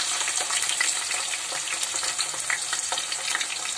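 Chopped tomatoes and curry leaves fry in hot oil, a loud, dense sizzle with constant crackling and spattering, broken by light stirring scrapes throughout.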